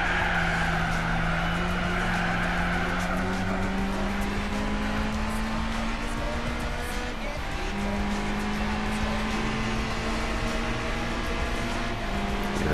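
A Suzuki concept race car in a Gran Turismo 4 one-make race revs hard through its short gears, its engine note climbing steadily, dropping at a shift and rising again, with tire squeal underneath.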